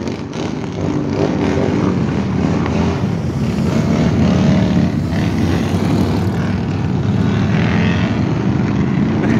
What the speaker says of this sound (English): a bunch of loud motorcycles going over the bridge